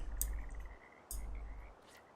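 Frogs croak at a distance in a Russian Fishing 4 game scene, with a couple of crisp croaks standing out over a steady low ambient rumble and a faint continuous trill.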